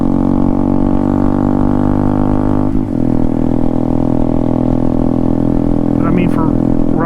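Engine of a 2022 Honda Grom motorcycle while riding, a loud steady droning hum with a brief dip as the revs shift, carrying on close and continuous with faint chirps near the end.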